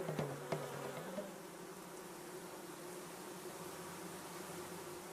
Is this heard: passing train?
no